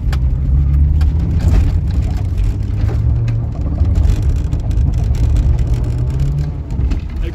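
A van engine revving steadily while drifting, a loud continuous roar with a low drone that carries through the whole stretch alone, with no talk.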